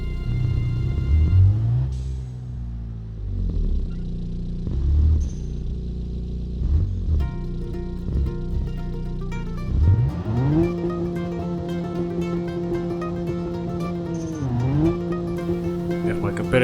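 A game car in Automation revs up and shifts through several gears, its engine tone rising then dropping at each change, loud and steady with someone talking over it.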